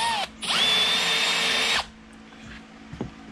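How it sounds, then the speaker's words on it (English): A power drill whines at high speed for over a second, drilling a hole for a Sea-Doo GTX wakeboard mount, then stops; a few faint clicks follow in the quiet. "then we can drill all the way through at the right angle."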